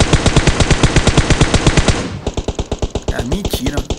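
Rapid machine gun fire in PUBG Mobile, a fast, regular burst of loud evenly spaced shots for about two seconds, followed by slower, sharper single shots with a brief whine.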